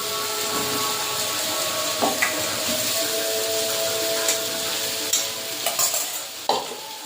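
Fried potatoes tipped into a sizzling, oil-releasing spice masala for a spicy snakehead fish curry, then stirred: a steady close sizzle with scraping spatula clatters around two, five and six-and-a-half seconds.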